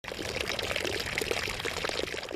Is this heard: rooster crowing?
no